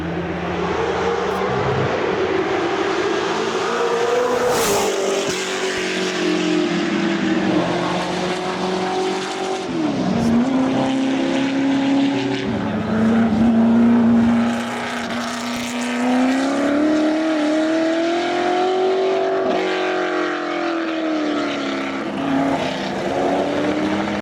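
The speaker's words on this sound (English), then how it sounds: "it'll never, ever have that amazing, breathtaking sound of the original GT40 Mark II." A Ford GT40 Mark II race car engine roars loudly and continuously, its pitch rising and falling through gear changes and throttle shifts as it passes, with no talk over it.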